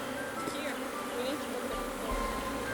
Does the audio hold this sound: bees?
yes